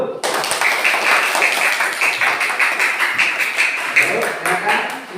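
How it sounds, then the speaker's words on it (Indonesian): Classroom group claps for the first group before its presentation, a loud burst of close-up, sharp claps from a small crowd lasting about five seconds, with voices mixed in. "Tepuk tangan dulu."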